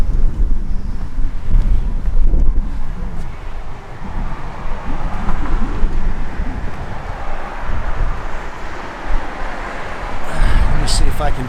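Gusty wind buffeting a microphone outdoors beside a 1963 Dodge D100 pickup truck, loud low rumbling gusts rising and falling throughout, with people talking under it.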